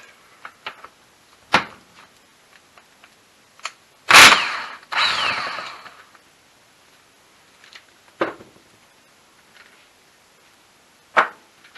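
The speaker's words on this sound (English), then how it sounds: "put this on the nut, and then grab my 1/2 inch drive impact" A 1/2 inch drive impact wrench removes the pinion nut on a Saab GM F35 transmission during disassembly, firing in two loud, short hammering bursts amid scattered tool clinks and taps in a quiet workshop.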